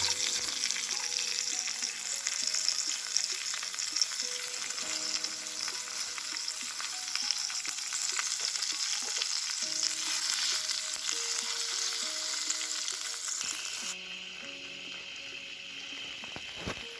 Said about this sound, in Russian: В раскаленный с маслом уже добавленным котелок добавляем рыбий фарш.